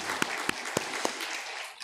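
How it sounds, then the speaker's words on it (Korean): A church congregation applauds steadily for a couple of seconds during a service, a dense wash of clapping with a few sharper individual claps standing out. "우리 하나님께 영광의 박수를 드리시겠습니다"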